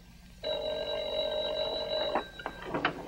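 A telephone bell rings in a radio drama, one loud sustained electric ring lasting nearly two seconds, followed by a few clicks and knocks as the receiver is picked up.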